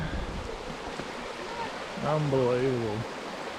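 Creek running with a good flow after overnight rain in misty bush country at Chambers Gorge in Australia, a constant rushing wash heard nearby, with a voice speaking briefly over it partway through.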